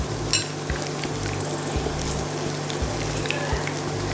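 Jackfruit kababs sizzle steadily in a hot pan, a soft continuous crackle with occasional brief spatters and light scraping, close and moderately quiet with no talking.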